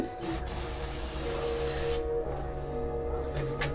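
Brake cleaner spraying from an aerosol can in a garage during work on a welded differential, a steady loud hiss for about two seconds that gives way to a lower noisy background.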